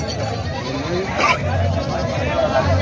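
Goats bleat now and then at a busy goat market in Hingoli district, against a background of voices and crowd noise, with one louder cry standing out briefly.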